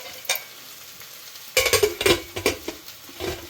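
Okra stir-fried in a pan at home, sizzling quietly before a burst of scraping and stirring strokes in the second half, with clinks of a utensil against the pan.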